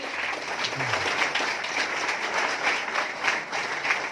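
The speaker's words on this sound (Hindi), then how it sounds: "आगे आगे वाले ताली बजा रहे" Audience at an indoor business seminar breaks into sustained applause, many hands clapping densely and evenly throughout with no pause.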